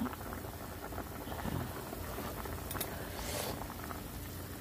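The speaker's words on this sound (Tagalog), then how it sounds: "kumukulo na siya mga dear" A pot bubbles at a steady rolling boil while cooking sautéed sponge gourd with sardines, a soft continuous gurgle and patter, fairly quiet and close, with no voices.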